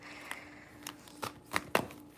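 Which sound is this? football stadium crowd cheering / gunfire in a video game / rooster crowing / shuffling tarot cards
shuffling tarot cards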